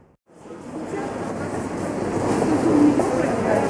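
A train getting underway: a low rumbling roll that swells gradually after a brief silence, with faint rail clatter and a thin metallic squeal near the end, heard close by and without talk.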